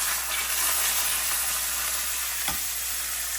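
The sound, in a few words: ribeye steak searing in a hot cast iron pan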